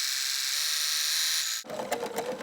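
A sewing machine stitching appliqué fabric runs in a steady high whine, then shifts abruptly into a slower, uneven stitching patter with separate needle strokes as it eases toward a corner.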